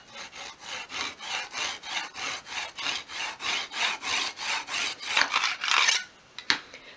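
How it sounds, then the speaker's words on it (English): A small hand saw cuts a wooden spindle in a mitre block for a 1/12th scale dolls house chest of drawers, steady, even back-and-forth strokes, close and fairly loud, ending with a couple of sharp knocks. "I'm just using my mitre block and saw to really carefully cut these"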